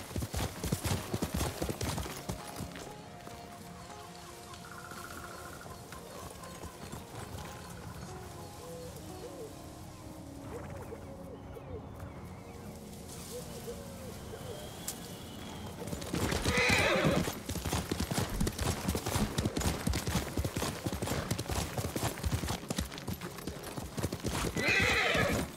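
A horse in Ghost of Tsushima gallops with rapid, steady hoofbeats throughout, loud and close, with a neigh midway and birds faintly in the background.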